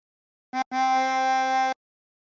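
A 24-hole tremolo harmonica is blown on hole 3 twice, a short note then a longer sustained wavering chord, close and clear with no talk.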